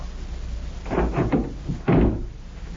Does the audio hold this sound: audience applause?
no